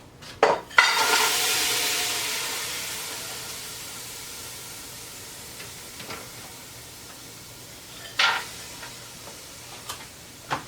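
Frozen blueberries tumbling into a hot pan, a loud clattering rush followed by a fading sizzle, then occasional sharp scraping knocks as a utensil stirs them, close up with no talking.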